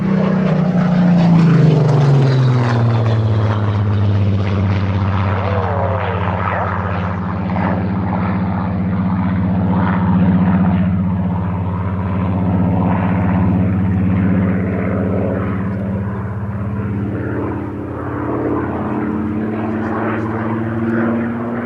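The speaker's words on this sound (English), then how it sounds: "watching multiple Hurricanes and Spitfires in Cambridgeshire skies" Hurricane and Spitfire propeller aircraft fly over a Battle of Britain airfield in Cambridgeshire, making a loud, continuous piston-engine drone that stays strong overhead for the whole stretch and eases off slightly toward the end.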